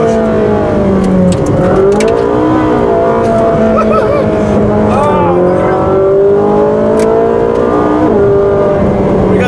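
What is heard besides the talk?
Ferrari 458 Speciale engine revving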